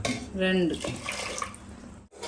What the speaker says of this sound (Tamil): அதே மாதிரி அரை டம்ளர் தண்ணி வந்து ஊத்திக்கிறேன்